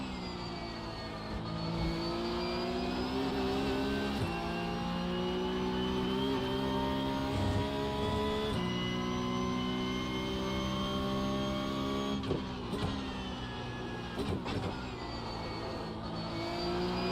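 A Porsche Cup race car at Imola drones at high revs with a steady, harmonic-rich engine note, broken by several gear shifts and a few brief rattling jolts, continuous and close.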